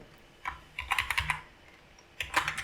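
Quick bursts of keystrokes clatter on a computer keyboard as a code comment is typed, close and clear, with pauses between short flurries.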